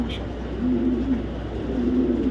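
A light-coloured racing pigeon, a female, coos softly in low, rolling phrases, close by, over a steady background hum.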